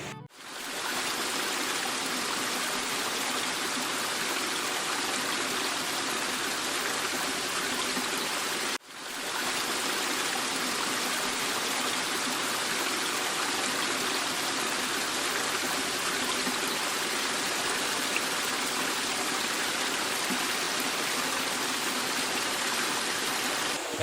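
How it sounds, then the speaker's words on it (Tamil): Silver Falls in Kodaikanal pours in a steady, loud, broadband rush of falling water, continuous across the whole stretch with one brief dip midway, and no voices present. "இங்கே தண்ணி விழுந்து அழகாக படிப்படியாக வருது."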